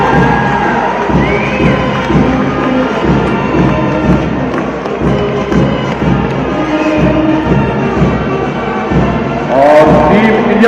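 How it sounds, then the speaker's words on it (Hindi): A large crowd cheers and shouts continuously for Team India as it parades past at the opening ceremony of the Senior Asian Pencak Silat Championship in Kashmir, a loud sustained roar with scattered clapping and voices. "जोरदार तालियां टीम इंडिया के लिए।"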